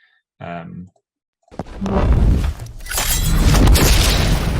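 Explosion effect from the video game Hyper Light Breaker: after a brief voice and a short silence, a sharp crack bursts into a loud, shattering, debris-filled roar that swells and holds to the end.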